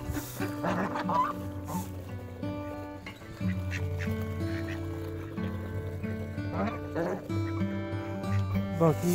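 Chickens, including Aseel chicks, call and cluck repeatedly in a noisy village yard after heavy rain, overlapping calls near and far with some background voices.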